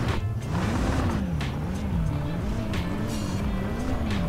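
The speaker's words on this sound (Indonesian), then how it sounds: "Ini gue ganti knalpotnya biar nggak terlalu brong sih itu teman-teman" A car engine in the driving game Mon Bazou drones steadily through a loud exhaust, its pitch rising and falling in a slow, wavering cycle, with occasional clicks over the constant rumble.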